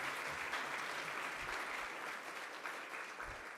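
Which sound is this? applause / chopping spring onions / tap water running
applause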